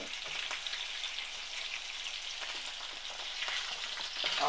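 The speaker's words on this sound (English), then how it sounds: "it's not going to be crispy because we're sauteing it" Salmon sautéing in a pan, a soft steady crackling sizzle with scattered pops, moderately quiet and close, with no one speaking.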